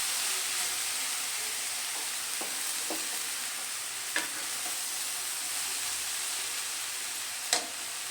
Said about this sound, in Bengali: আবারও আমি খুব ভালো করে নেড়ে দেব।